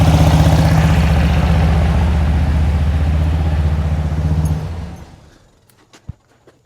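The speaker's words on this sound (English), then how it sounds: "That's how low I can hold an idle." A 1972 VW Beetle engine with dual carburetors idles low and steady with a rough, throbbing pulse, loud and close, then winds down and stops, leaving near silence with a few small clicks.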